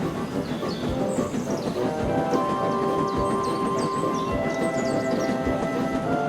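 A narrow-gauge train pulling heavy tanker wagons rumbles and clatters steadily along the rails, with faint squeals and metallic creaks over the continuous low roar.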